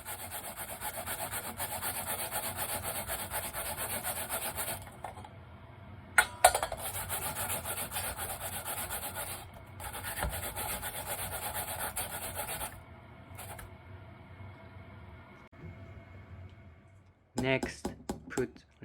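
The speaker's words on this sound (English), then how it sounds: "grate yam" Raw yam rubbed by hand against a grater for Japanese okonomiyaki, giving steady rasping strokes that continue for most of the stretch, broken by short pauses, with a few louder knocks near the end.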